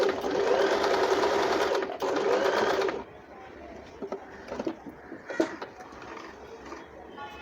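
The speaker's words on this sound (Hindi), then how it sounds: "अब इसकी हम सिलाई ले रहे हैं।" Usha Marvela automatic sewing machine stitching a buttonhole, a loud, fast mechanical whir for about three seconds with a brief pause, then stopping into quieter handling clicks and rustles.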